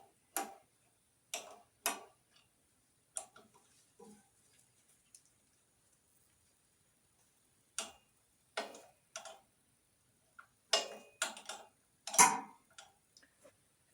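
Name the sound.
1/2-inch wrench tightening a carburetor on a Ferguson TO-20 tractor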